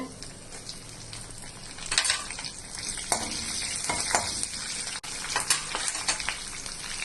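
Cumin, curry leaves and green chilies drop into hot oil, a loud crackling sizzle with bursts of spitting and stirring scrapes, continuous and close throughout.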